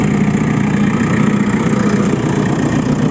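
A JCB 4CX Tier 4 backhoe loader's diesel engine idles just after starting, a loud, steady, close rumble with constant vibration and no pauses throughout.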